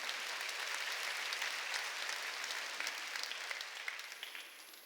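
A church congregation claps in a dense, steady burst during a Sunday worship service, a continuous wash of many hands that tapers slightly at the end.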